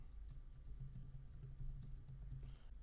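Rapid keystrokes on a computer keyboard, steady and continuous with a low background hum, close and fairly quiet, no voices.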